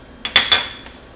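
A spoon clinks against a bowl while stirring granulated sugar and a pinch of salt for an apple crisp pie: three or four quick, bright taps close up in a quiet kitchen.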